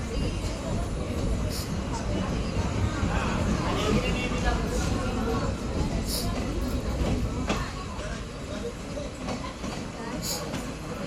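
Train No. 17662, a passenger service between Basara and Kachiguda, rolls out of a station after a one-minute stop with a continuous loud rumble and rattle of carriages, with a few sharp clicks and some voices under the noise.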